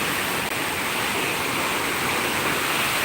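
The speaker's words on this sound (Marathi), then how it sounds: "कोकणात भरपूर पाऊस चालू आहे बरं का रत्नागिरीमध्ये" Heavy monsoon rain pours down in Ratnagiri in the Konkan region, a dense, loud, unbroken hiss with no other sounds above it.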